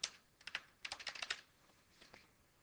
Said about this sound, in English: we will type the same thing